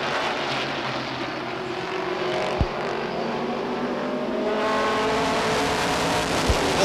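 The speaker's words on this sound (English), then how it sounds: "Up the inside comes the Hanley car" ACT stock cars racing at Beech Ridge Motor Speedway, with engines roaring steadily in a dense pack and swelling as cars pass nearby, plus a couple of sharp knocks.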